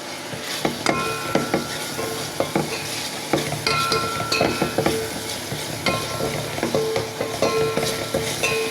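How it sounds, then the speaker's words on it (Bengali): Spices and turmeric stirred and frying in a pan for a pangas fish dish, with steady sizzling and repeated scraping and clinking of a spoon against the pan, close and with no talking. "আমি একসাথে কষিয়ে নিব।"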